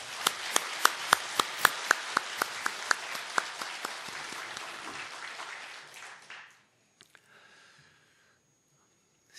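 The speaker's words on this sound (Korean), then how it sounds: "찬양대 위에서 격려의 박수 원하겠습니다." A church congregation applauds its choir with steady, rhythmic unison claps that carry on for several seconds, then thin out, break up into a few scattered claps and stop, leaving near silence.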